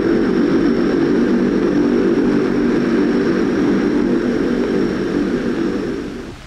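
Sustained, loud drone of a Lockheed C-130E transport aircraft's propeller engines, holding steady throughout before easing off slightly at the very end.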